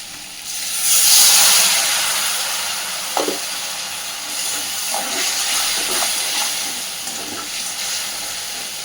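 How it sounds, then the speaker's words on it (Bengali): Water splashed into spice paste frying in a pan for aloo dum sets off a loud burst of sizzling and steam hiss, then settles into a steady crackle with occasional stirring scrapes, no voices. "মশলা যাতে পুড়ে না যায়, সামান্য একটু জল দেব।"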